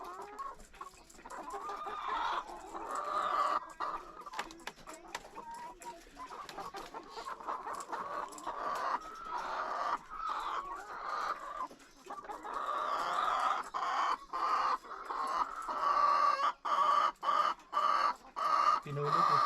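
Chickens cluck steadily and fairly quietly throughout, a busy mix of overlapping hen calls with faint background voices.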